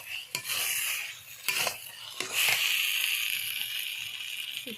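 A spoon stirs and scrapes through crab and spinach sautéing in mustard oil in a pan, sharp metallic clinks and scrapes over a continuous bright sizzle, close and fairly loud, without speech.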